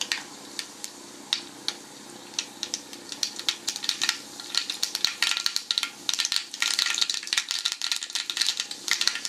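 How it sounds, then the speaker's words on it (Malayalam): Mustard seeds spluttering and popping in hot coconut oil while preparing a Kerala red spinach and dal thoran, a dense run of sharp crackles over a steady sizzle that grows busier and louder toward the end, with no talking. "ഇതിലേക്ക് ഒരു 1/4 ടീസ്പൂൺ കടുക് ചേർക്കാം."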